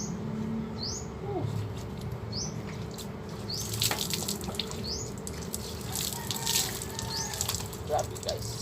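Water runs steadily while someone bathes in hot weather, with splashing and dripping bursts that grow busier midway, and faint bird calls chirp in the background.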